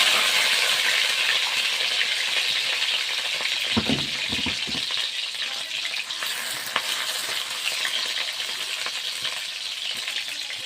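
Chopped onion frying in hot oil in a wok, a steady loud sizzle running throughout with a few brief stirring clatters partway through.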